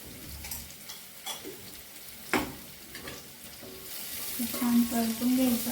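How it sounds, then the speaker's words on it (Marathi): Taro root sautés in a pan with red chili powder and garam masala, a soft, close sizzle with occasional stirring scrapes that grows a little louder toward the end. "छान परतून घ्यायचं।"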